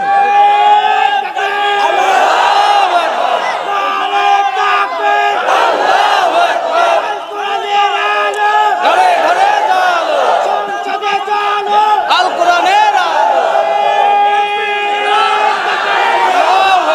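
A large crowd at a Bengali religious sermon (waz mahfil) chants slogans in unison, loud, close and sustained, with rhythmic call-and-response surges and raised voices repeating over roughly seventeen seconds.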